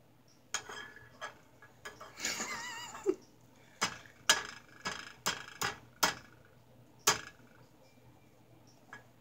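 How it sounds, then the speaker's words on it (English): A metal spoon repeatedly tapping and cracking open a small egg, giving a series of sharp, close clicks spaced irregularly, then faster taps, with faint background noise and no talk. "You know, get a spoon and crack it open"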